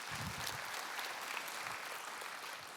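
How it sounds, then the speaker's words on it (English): Church audience applauding during a sermon, a continuous close crowd of clapping hands that runs evenly and fades slightly at the end. "Yeah, you can clap for that."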